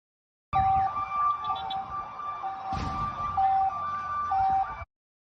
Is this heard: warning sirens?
yes